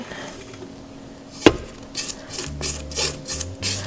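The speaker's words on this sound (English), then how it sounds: "now we want to scrape down the bowl a little bit" Spatula scraping around a mixing bowl of soft, creamed cookie dough, with one sharp scrape near the start followed by several softer rubbing strokes, close and fairly quiet.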